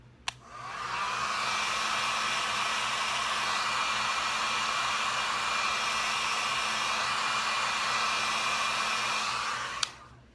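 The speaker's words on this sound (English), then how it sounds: "So I love the blow dryer trick" A blow dryer drying mascara fibers on the eyelashes runs as a loud, steady close-up whoosh for about nine seconds, switching on at the start and clicking off near the end, with no talking.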